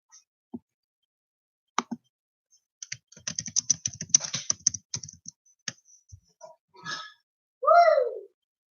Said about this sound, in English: my typing's not even going through